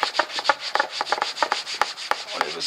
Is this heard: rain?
no